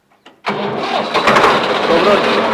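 A Swaraj tractor engine cranks briefly, then roars to life and settles into a loud, steady running rumble close by.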